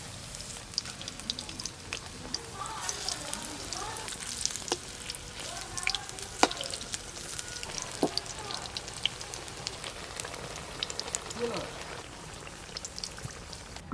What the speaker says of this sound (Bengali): এইগুলো ভেজে নিলেই হয়ে যাবে